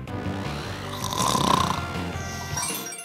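A character snoring in the video game Rudora no Hihou, one long rasping snore that swells in the middle and then fades, loud and close with no talk over it.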